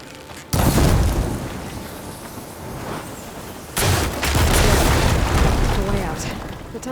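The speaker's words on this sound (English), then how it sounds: "Hitting those blaze barrels with fire ammo should do the trick" Blaze barrels set off by fire ammo in Horizon Forbidden West on PS5, two loud booming blasts about three seconds apart, each rolling into a long crackling, rumbling tail inside a tunnel.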